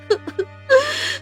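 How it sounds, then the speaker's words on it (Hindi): Someone cries in a told folk tale about an honest woodcutter: three short whimpering sobs, then a longer, rising wail, all close and alone. "तभी उसे किसी के रोने की आवाज आती है।"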